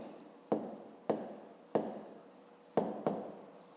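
A pen writes figures on paper during a fifth-grade maths exercise, five short distinct scratching strokes spread across a few seconds, close and clear with no talk.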